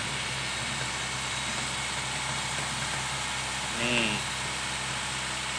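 A 2016 Honda Brio engine runs steadily at about 2000 RPM with a constant, even drone, and a voice speaks briefly over it.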